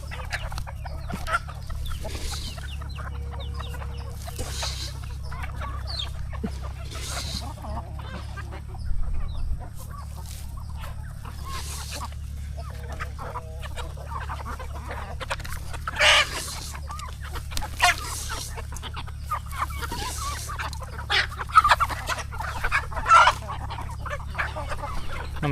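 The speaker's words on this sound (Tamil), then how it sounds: "நம்மள்ட்ட இப்போதைக்கு நிறைய பொட்டை கோழிகள் இருக்குது" Native hens on a poultry farm cluck intermittently at feeding time, scattered calls near and far over a constant low hum, with occasional sharper squawks and no talking.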